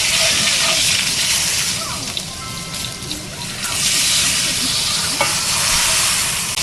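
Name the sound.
steak searing under a press in a pan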